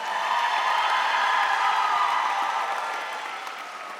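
Convocation audience applauds district Teachers of the Year in a large hall, a broad wash of clapping with faint cheering that slowly fades toward the end.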